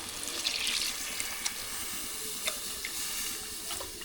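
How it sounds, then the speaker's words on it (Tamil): Water is poured into a pan of tamarind and spice fish curry base, giving a steady rushing, hissing splash throughout, with a few small clinks over it. "இப்போ அந்த தண்ணியை சேர்த்துக்கலாம்"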